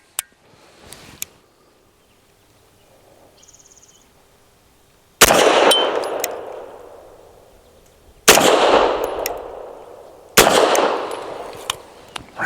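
Tisas 1911 Duty B9R DS pistol with a 5-inch barrel firing Winchester Defense 147-grain rounds outdoors: three loud, sharp shots at uneven intervals, each ringing out with a long decaying echo, after quiet handling clicks.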